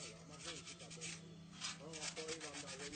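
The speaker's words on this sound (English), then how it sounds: "each piece is sanded to bring out the shine and beauty of the metal" Steady rubbing and scraping of sanding on a hand-crafted Haitian metal art piece, a continuous close abrasive sound with rhythmic back-and-forth strokes and a faint background hum.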